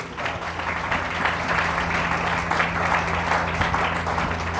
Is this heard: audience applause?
yes